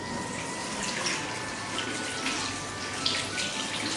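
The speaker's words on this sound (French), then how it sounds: "je peux passer au rinçage toujours à l'eau propre" A tap runs steadily into a sink while hands are rinsed under clean water, a continuous broad hiss and splash of flowing water, close by and alone without any talking.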